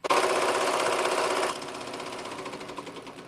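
A sewing machine stitches a zipper pouch with pink thread, giving a steady, rapid mechanical whir. It runs louder at first, then continues more softly with a slight pulsing rhythm.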